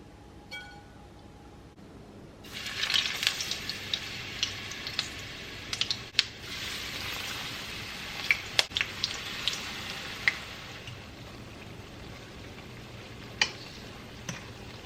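Thin bammy slices, soaked beforehand, frying in a pan with a steady close sizzle that begins a few seconds in, dotted with scattered small pops and ticks, and no talking.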